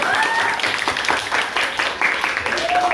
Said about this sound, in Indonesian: silakan kasih aplaus untuk kelompok yang sudah ke depan